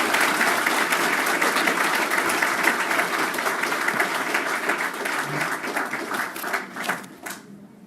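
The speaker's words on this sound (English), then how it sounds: "Please give her a round of applause." Sustained applause from a large audience at an annual dinner, welcoming a keynote speaker, steady and full throughout before tapering off near the end.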